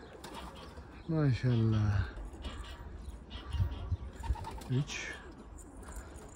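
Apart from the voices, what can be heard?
pigeons cooing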